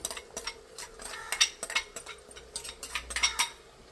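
A spoon clinks and scrapes against a pan as a prepared spice mix is stirred into cooked jackfruit seeds for a Trivandrum-style thoran. The close, irregular metallic taps come in quick bursts, with no talking.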